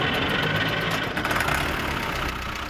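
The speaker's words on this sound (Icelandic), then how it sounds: "ég að fara hringinn á landið á gömlum Belarus traktor frá 1967" A 1967 Belarus Russian tractor engine idles with a steady low rumble and a faint knocking pulse, heard close and alone without any talk.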